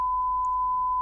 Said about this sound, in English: that beep noise